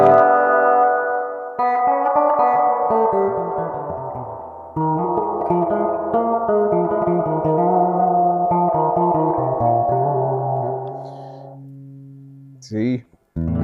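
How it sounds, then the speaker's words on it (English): A sustained electric guitar melody soaked in splashy reverb, notes ringing and blurring together, ending with a short twangy burst. "Spring reverb."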